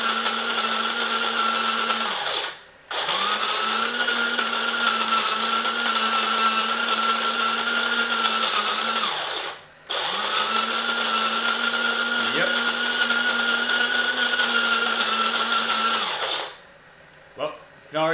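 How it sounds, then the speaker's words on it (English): Electric conical coffee grinder grinding coffee beans, a loud steady whirring drone running in two long bursts of about seven seconds each with brief pauses between. "You want to get a conical grinder, whether it's a electric one like this or a hand grinder."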